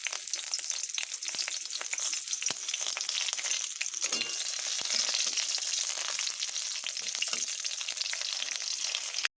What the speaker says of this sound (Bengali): তেজপাতা, লঙ্কা ও গোটা গরম মশলা ফোড়ন দেব।